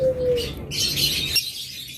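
Pet lovebirds, a running breeding pair, give a brief whistled note followed by a burst of bright, busy chirping and twittering at close range.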